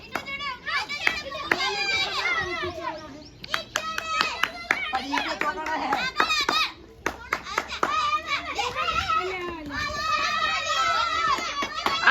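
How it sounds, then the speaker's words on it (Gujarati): Children clap their hands in sharp, quick bursts amid lively shouting and chatter, the claps coming in several rapid runs that pause briefly between them. "અરે બાપરો ચેડે તાળીઓ વગાડે."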